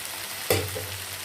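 Prawns with half-cooked onions in a pan for hotel-style prawn chilli, with a brief stirring scrape and a burst of sizzling over a steady background frying hiss, close and short.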